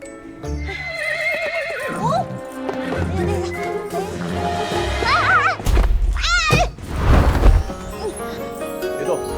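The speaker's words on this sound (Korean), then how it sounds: "소상을 심쿵하게 했던 말타기는 물론이요." Horse neighing during a horse riding scene in a drama, with loud whinnies rising over dramatic music, thuds and hoof sounds, with voices talking around it.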